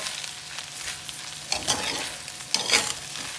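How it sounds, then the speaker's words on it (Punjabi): Sweet rice with sugar is stirred in a pot, a soft scraping and shuffling with two firmer strokes near the end, alongside a faint sizzle, close and without talk. "ਆਪਾਂ ਨੇ ਸਵਾਦ ਅਨੁਸਾਰ ਇਹਦੇ ਵਿੱਚ ਪਾਉਣੀ ਹੈ ਚੀਨੀ ਆਪਾਂ ਨੇ ਨਾ ਇਹਨੂੰ ਵੀ ਐ ਚੰਗੀ ਤਰ੍ਹਾਂ ਮਿਕਸ ਕਰ ਦੇਣਾ"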